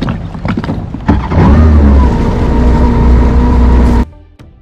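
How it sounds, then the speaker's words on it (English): A Kawasaki Ultra 310 LX-S jet ski with a 1500cc supercharged four-cylinder marine engine, loud and close: a throttle blip, then a strong sustained roar with a steady droning tone, cutting off abruptly near the end. "the 1500cc supercharged 4-cylinder dual overhead cam marine engine"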